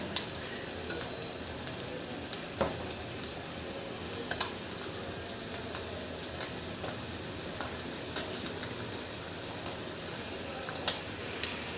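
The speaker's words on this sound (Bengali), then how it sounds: "দেখুন কি সুন্দর মাছ ভাজা হচ্ছে" Fish fries in hot oil with a steady, even hiss and scattered small crackles and pops, close by, with no talking.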